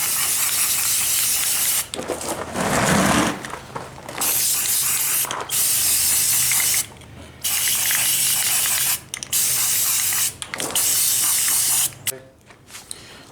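Rust-Oleum bed liner sprayed from an aerosol can onto truck parts for a Cummins pickup: loud, close hissing bursts of a few seconds each, separated by short pauses, with faint mechanical clicks near the end.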